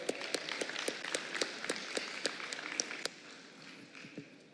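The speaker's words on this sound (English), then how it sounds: "Can we have a round of applause?" Audience applause at a city summit presentation session, a burst of scattered claps that thins out after about three seconds, moderately distant and alone without talk.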